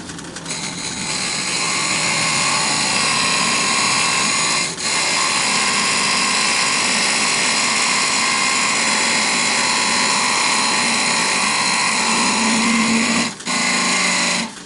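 A wood lathe spins a wooden box blank that is mounted off center, a steady loud whirring drone with a shuddering hum that runs unbroken for about fifteen seconds, with only two brief dips.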